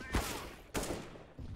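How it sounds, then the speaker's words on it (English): Video game gunfire from a teammate, with two or three sharp, loud shots in quick succession at close range. "Teammate shot me, very nice."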